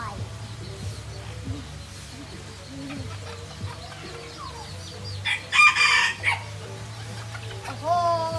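Hens cluck softly among farmyard noise, a mother hen among her chicks, with a rooster crowing briefly partway through and people's voices mixed in.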